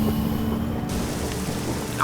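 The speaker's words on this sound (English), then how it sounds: "Oh, it's raining." Steady rain in the video game Spiral Knights, an even hiss of falling drops that fills the scene at moderate volume with no other clear sounds.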